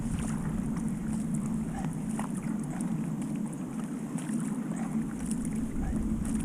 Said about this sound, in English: my sort of normal paddling with a wing paddle, my Epic small mid